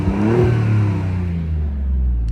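A 2022 Alfa Romeo Giulia Quadrifoglio's 2.9 V6 exhaust revs loudly up and back down close by, a throaty, fruity burble swelling and settling with no talk over it.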